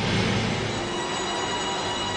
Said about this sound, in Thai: สายด่วน Express Line ที่เห็นกำลังทดสอบเดินรถในขณะนี้